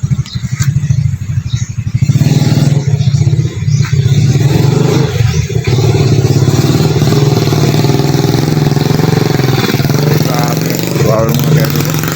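Motorcycle loaded with rice sacks runs steadily close by, a constant mid-pitched engine drone with some clatter, a voice talking faintly over it.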